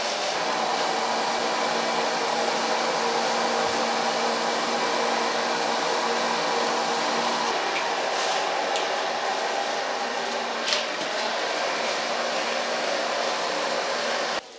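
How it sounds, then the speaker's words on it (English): A hair dryer blows steadily and loudly at close range while hair is dried with a brush, one unbroken whooshing drone that cuts off abruptly at the end. "We'll blow dry it with a brush."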